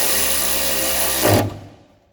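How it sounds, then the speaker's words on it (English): An impact wrench tightens the nut on a rear Eibach sway bar of an NB Mazda Miata, giving a loud, steady whirring burst up close that ends in a short heavier hammering jolt before cutting off, with no talk. "start the nut by hand and cinch it down, and then hit it with the impact"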